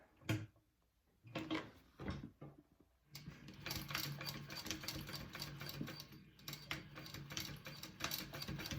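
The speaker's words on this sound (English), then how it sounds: "We're going to sew along that line, 1/8 of an inch away." A sewing machine stitches an eighth-inch seam along a fabric divider bag, running steadily for several seconds after a few short separate bursts and handling sounds at the start.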